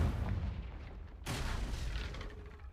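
A Confringo blasting spell in Hogwarts Legacy goes off as a sudden loud burst midway, with a booming, crackling blast that rumbles on and fades over a couple of seconds.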